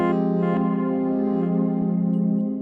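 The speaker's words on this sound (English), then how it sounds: "It's adding on this cool little reverse sound" A sustained, swelling tonal reverse sound effect drenched in heavy reverb with about 3.5 seconds of decay, with a smeared, backward-sounding quality and long echoing tail.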